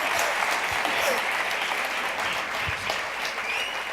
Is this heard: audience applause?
yes